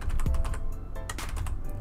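Keys clatter on a computer keyboard in a quick, irregular run of close, crisp taps, with no voices.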